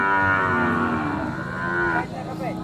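Cattle lowing from a pen, one long sustained moo rich in harmonics that holds steady for about two seconds before breaking off, close and loud against a busy farmyard background.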